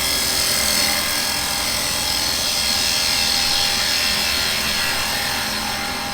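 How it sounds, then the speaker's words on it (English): Carbide chisel making a bevel control cut on spinning wood on a woodturning lathe, a continuous scraping, rasping hiss over a steady motor hum, close and alone. "that is how easy it is to do a bevel control cut with this"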